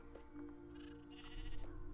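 Sheep in the Minecraft video game bleat repeatedly over a steady low background hum, with a louder bleat near the end and no talking.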